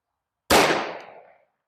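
A single sharp, loud shot from a Smith & Wesson 629 revolver with a 6-inch barrel firing .44 Special Gold Dot ammunition, an abrupt crack followed by a decaying echo that fades within about a second, with no talking.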